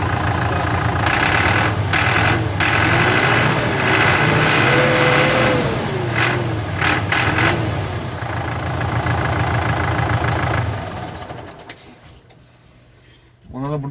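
A loud 2013 Erkunt Haşmet 110 diesel tractor engine idles close by with a throbbing exhaust rumble, a brief rising whine partway through, then the engine cuts off near the end.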